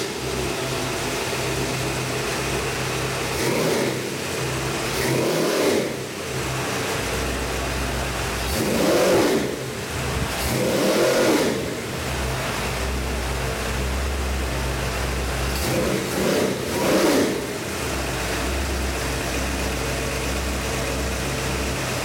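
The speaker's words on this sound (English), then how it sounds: "I'd like to fire this up, give you a little run demo." A Ford 351 Windsor V8 rated at 325 hp, fitted with an Edelbrock carburetor and MSD ignition, runs on an engine stand, idling steadily with several loud revs swelling and falling back.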